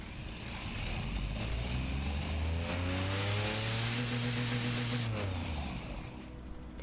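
A rough, throaty inline-three engine revs up steadily under load on a dyno, its pitch climbing and holding, then dropping off as the pull ends.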